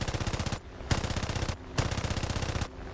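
Twin .30 cal turret machine guns on a PBY-5A bomber in War Thunder, firing rapid bursts in three rhythmic volleys separated by short pauses, loud and close.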